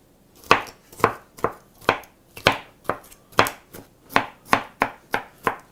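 Knife blade scraping chopped food across a cutting board, about a dozen sharp, even strokes in a quick steady rhythm, close and clear with no talk.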